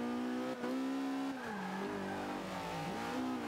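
A race car in Forza Motorsport 5 at Silverstone accelerates hard, its engine holding a high, tight whine, then dipping through a gear change and climbing again, loud and close throughout with no talking.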